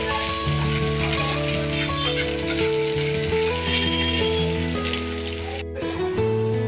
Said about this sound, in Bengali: আর সঙ্গে 2টো কাঁচা লঙ্কা চিড়ে একটু ভালোভাবে ভাজবো লাল লাল করে।